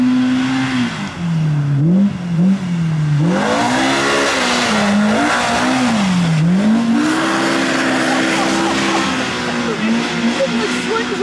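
A Polaris RZR Pro R side-by-side on oversized tires roars and revs hard, its engine pitch climbing and dipping over and over as it tears around with tire noise and spray, loud and sustained throughout.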